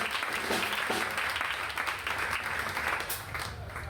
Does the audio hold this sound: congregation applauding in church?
yes